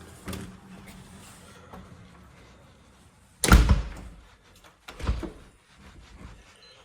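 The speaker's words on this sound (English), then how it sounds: "I was told to come in the back door" The back door of a house being flipped swings open with a sharp thud and latch clunk, followed by a second softer knock; quiet room tone and faint shuffling surround these close, isolated impacts.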